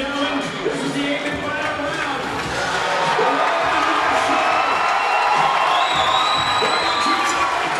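A boxing crowd in Melrose roars and cheers as the final round opens, a dense wall of shouts and whoops that swells louder partway through and stays loud to the end.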